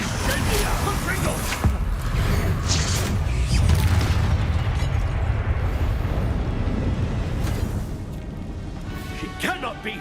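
Booming spell blasts and crackling bursts in Hogwarts Legacy combat, a dense run of loud impacts over several seconds under a voice casting spells, easing off toward the end.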